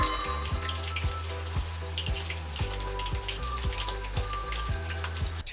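Chicken dipped in Pepsi frying in hot oil over medium heat, a steady crackling sizzle with regular low thumps underneath, continuous and close.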